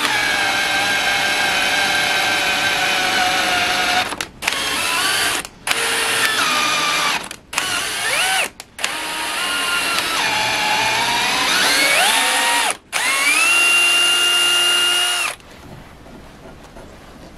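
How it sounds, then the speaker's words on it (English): A power drill with a worn-out chuck whines loudly in repeated runs, stopping briefly several times, with the motor pitch shifting as it speeds up and slows. "Chuck's finally going on this drill"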